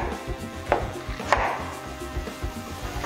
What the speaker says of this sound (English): I'm gonna cut my potatoes in the big portion